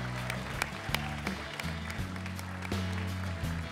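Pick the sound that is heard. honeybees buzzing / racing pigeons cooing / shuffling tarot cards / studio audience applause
studio audience applause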